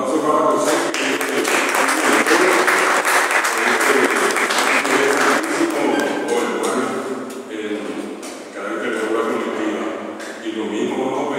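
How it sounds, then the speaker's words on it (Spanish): An audience at a poetry anthology presentation applauds warmly, a dense sustained clatter of many hands that carries on for several seconds and then thins, with a voice speaking over it. "Un aplauso para José."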